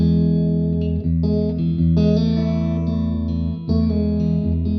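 Clean, unreverberated electric guitar through a PRS MT15 amp, miked with a Sennheiser E609, playing sustained chords and notes with crisp dry attacks, loud and close, with no voices.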